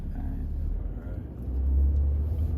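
Steady low engine rumble of a BMW 335d heard from inside the car as it sets off for a drive, swelling slightly louder midway and holding a continuous droning hum throughout.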